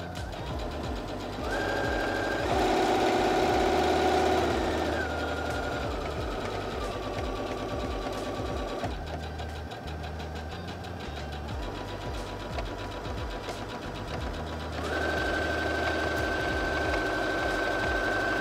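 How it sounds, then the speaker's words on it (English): A Singer HD6805C sewing machine stitching under a speed control lever, a continuous mechanical whir with a rapid stitching rhythm whose pitch rises and falls as the pace shifts between slow and fast, close and steady with no talking. "And as I sew, I'll move it over to the right and show you fast speed, and then we'll come back down to slow speed again"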